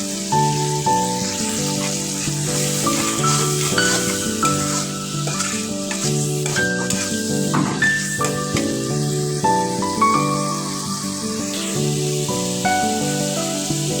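A little water poured into a pan of fried onions with turmeric, chili powder and salt for Bengali hilsa fish hagra, setting off a loud, steady hissing sizzle that continues under background music.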